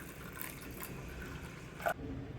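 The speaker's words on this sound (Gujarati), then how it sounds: "હજી થોડું પાણી ઉમેરી દઈશું." Water being poured into a pressure cooker in a home kitchen, a soft, steady trickle that stays faint and continuous with no voices.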